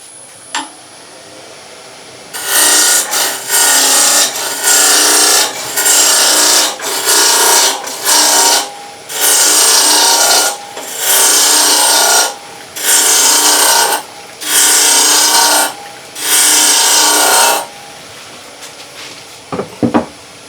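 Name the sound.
wood turning on a lathe with a roughing gouge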